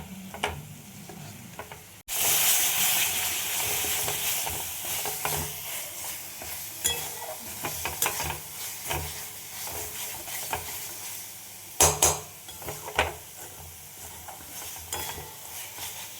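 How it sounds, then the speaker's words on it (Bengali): A Bengali masala spice paste is stir-fried for soybean curry, with a loud sizzle that swells after a short quiet start and is broken by scraping stir strokes and clicks, with no voices. "এইভাবে মশলাটা আমি কষিয়ে নেব।"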